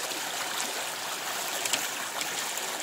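Pressurized water rushes steadily through a hose or pipe on a calamansi farm, a continuous broadband hiss with slight gurgling surges, fairly close and alone without talk.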